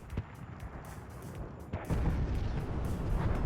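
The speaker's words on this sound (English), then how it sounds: "There's a lot of mortars firing there." Distant mortar and artillery fire in the WARNO strategy game, dull booms scattered through a rumbling battlefield bed that swells louder in the second half.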